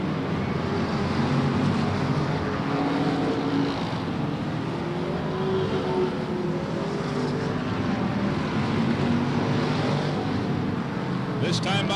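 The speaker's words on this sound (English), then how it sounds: "As they come around, they start to accelerate." Race cars accelerating around the Silver State Raceway during an open competition race: a continuous loud roar of several engines blending together, steady throughout with a constant wash of crowd and track ambience.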